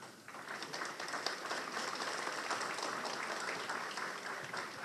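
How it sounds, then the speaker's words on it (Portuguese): Sustained audience applause at a Brazilian lecture as an engineer is called to the stage, dense steady clapping filling the room from start to finish with no voices over it. "Por favor, pode vir ao palco, receba os aplausos."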